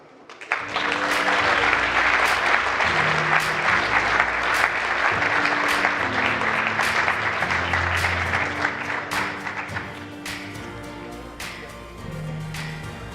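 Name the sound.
applause for prize winner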